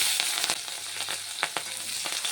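Nigella seeds and green chillies sizzle in hot oil, a bright, continuous frying hiss punctuated by quick crackles and pops at close range.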